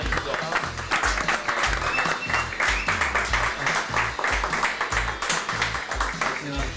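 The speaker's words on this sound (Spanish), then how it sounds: "aplauso para ti" Studio audience applauding a guest on a food and football cooking show, steady dense clapping with cheering, loud and sustained throughout with no break.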